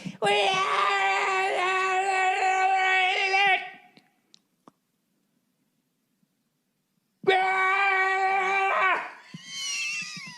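A man vocally imitates a motorized stair-climbing dolly lifting a heavy safe up an apartment stairwell, giving two long, loud, strained mechanical whines separated by a few seconds of silence.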